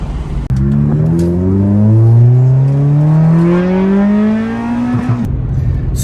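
A 1990 Honda CRX Si engine heard from inside the car, revving up steadily under acceleration with a rising, strong harmonic whine, then a quick gear change and drop in pitch; no talk over it.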